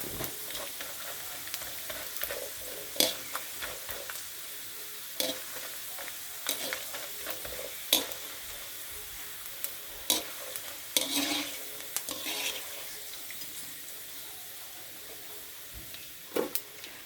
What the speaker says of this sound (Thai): ค่อยๆทอดนะคะ ที ละ น้อยนะคะ จะได้ไม่เปลืองน้ำมันนะคะ